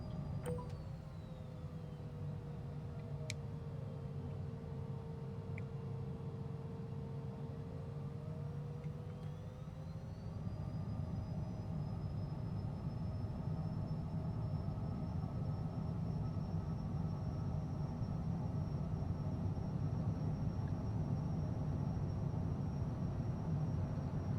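Aircraft engines in Microsoft Flight Simulator 2024 at Palanga, Lithuania, running as the plane takes off from runway 01, a steady droning rumble with a whine that rises in pitch partway through.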